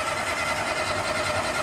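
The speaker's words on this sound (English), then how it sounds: "I'm going to go ahead and turn it over a little bit, let it kind of pump some oil around" An old Volkswagen engine being cranked over to pump oil around, a steady whirring, chattering spin held evenly throughout at close range with no voices.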